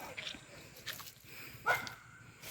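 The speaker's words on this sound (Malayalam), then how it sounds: "പട്ടിയുണ്ട്" A dog at a tribal colony in the Achankovil forest gives faint, distant yips and a brief whimpering bark amid outdoor quiet.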